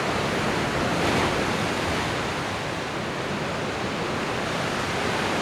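Ocean waves wash in as a dense, steady roar of surf, loud and unbroken throughout with a slight swell near the start and no voices.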